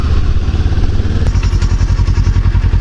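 A motorcycle rattles and clatters over rough, potholed road, its engine thrumming in a fast steady pulse with jolting thumps, loud and close throughout.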